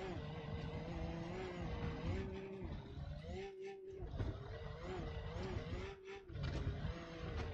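A car in the BeamNG.drive driving game pushes through bushes, its engine droning steadily with rising and falling revs and brief dips, loud and close with rustling texture throughout.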